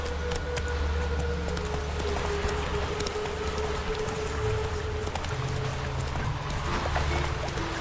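Roach, a horse in The Witcher 3, gallops steadily in a fast clip-clop beat under a constant low game ambience and hum, moderately loud and continuous without talk.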